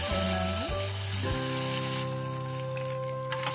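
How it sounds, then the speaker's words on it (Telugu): Prepared tempering is poured into Telangana-style peanut pachipulusu and sends up a loud, continuous sizzle that settles into a steadier hiss. Faint steady tones sit in the background, and there is no speech. "ఇప్పుడైతే మనం ముందుగా రెడీ చేసి పెట్టుకున్న పోపు అయితే"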